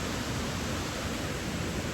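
At Snow Creek Falls, an unfrozen waterfall in winter rushes as a dense, even roar of falling water, steady and fairly loud with no voices.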